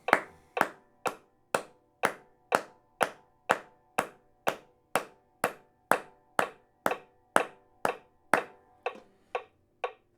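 Single pair of hands clapping in strict time with metronome clicks during a beginner banjo timing exercise, about twenty sharp, evenly spaced claps, close and clear, with no voices.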